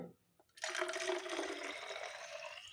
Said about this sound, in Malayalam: ഇപ്പോൾ ഒരു ബോട്ടിൽ ഒഴിക്കുന്നുണ്ട്